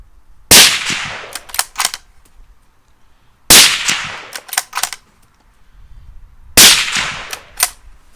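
Three loud Ruger American Gen II hunting rifle shots, each a sharp blast with a ringing, echoing tail and trailing clatter, spaced about three seconds apart outdoors with no talk.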